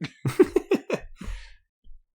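A short burst of several rapid coughs in a row, fairly close and moderately loud, then a faint breath and quiet.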